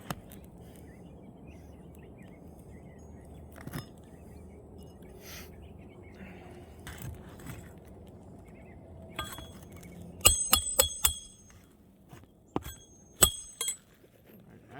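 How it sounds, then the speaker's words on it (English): A hammer drives nails into worn three-tab asphalt roof shingles, with a cluster of sharp, ringing strikes after a quiet stretch, a few in quick succession and then isolated blows. "As I'm hitting these nails"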